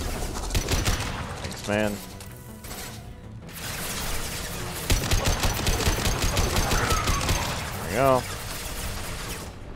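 Heavy automatic gunfire in the Mass Effect 2 Horizon mission, continuous rattling bursts with mechanical clatter and impacts, loud and close, with brief speech between volleys.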